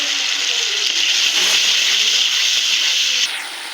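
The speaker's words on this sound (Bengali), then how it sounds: "এখানে পানি দিয়ে দিলাম" Water pours into a pan of spiced, simmering chicken curry made with country chicken, a close, steady rushing hiss that cuts off abruptly just before the end.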